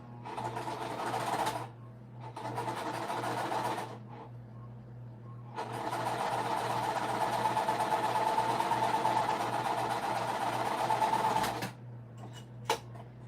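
A sewing machine stitching a flyway quilt, running in several bursts: a short run, a pause, another brief run, then a long steady whirring stretch of stitching before it stops, close and clear with a faint hum between.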